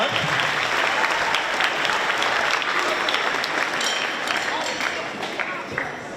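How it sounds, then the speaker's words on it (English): Sustained audience applause after a school band concert piece with an alto saxophone solo, a dense wash of many hands clapping that stays loud throughout and eases slightly near the end. "Good applause."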